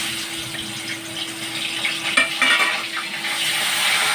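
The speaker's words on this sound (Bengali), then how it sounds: "চিকেনটাকে একটু লঙ্কার গুঁড়ো আর একটু নুন দিয়ে ভাজবো, এতে টেস্ট বেড়ে যায়।" Broiler chicken pieces fry with chili powder and salt in a pan, giving a close, continuous sizzle with bursts of stirring and scraping around the middle and no voices.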